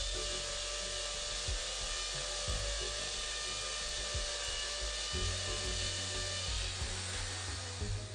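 A corded hammer drill with a newly developed percussion mechanism runs steadily for the whole stretch, a loud, dense whining drone that continues without a break and shifts pitch slightly around the midpoint.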